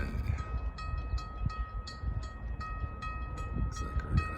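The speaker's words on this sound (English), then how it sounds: "Looks like we're gonna have a northbound CSX coming down the pike here." A northbound CSX freight train rumbling along the rails at a distance, a low steady roar with faint rhythmic clicking of wheels over track joints and a thin high tone running throughout.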